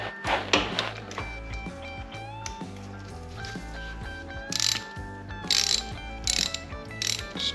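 Repeated ratchet wrench clicks in quick bursts while tightening parts on a Honda Odyssey FL350 engine during a rebuild, close and fairly loud with short pauses between strokes and metallic tool clinks.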